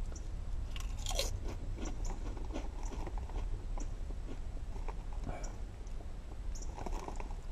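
Crunching of Lay's bacon wrapped jalapeno popper potato chips being bitten and chewed up close, a steady run of crisp crunches with no talking.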